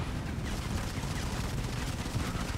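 Rapid continuous minigun fire in the mobile shooter Modern Combat 5: Blackout, a dense, loud, unbroken roar of automatic shots filling the whole moment without pause.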